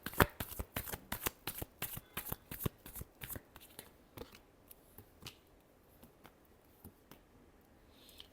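Tarot cards are shuffled close up with a rapid run of crisp riffling flicks that slows into a few scattered, quieter taps.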